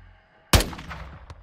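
A single loud gunshot cracks out in a Call of Duty Modern Warfare 2 singleplayer firefight, close and sharp with a ringing tail, followed by a fainter distant shot about a second later.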